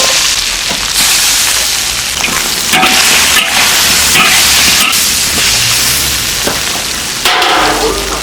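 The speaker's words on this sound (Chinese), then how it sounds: "给它再炒一下，炒出香味。" Black-bone chicken stir-fried with salt and dark soy sauce in a wok, a loud continuous sizzle and hiss broken by scraping spatula strokes and clanks throughout.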